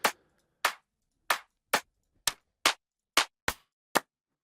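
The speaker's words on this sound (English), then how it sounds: "I want a clap that sounds really organic" Nine sharp, organic-sounding hand claps from a loose sample layered into a house track, spaced unevenly at roughly half-second intervals, each dry and crisp with a quick decay, heard alone.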